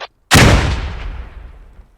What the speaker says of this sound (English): Underarm throw there of grenade.